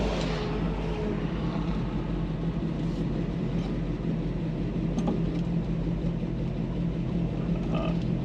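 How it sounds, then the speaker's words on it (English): A 1968 Chevelle SS 396 V8 idles at a stoplight, a steady, low and fairly smooth rumble heard from inside the car, with no talking. "Idle at a stoplight is fairly smooth"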